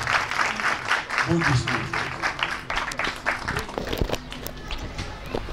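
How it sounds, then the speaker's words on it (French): At a flag-raising ceremony for a food film festival, an audience applauds with scattered, uneven claps and some taps. A voice speaks briefly partway through. "Applaudissements."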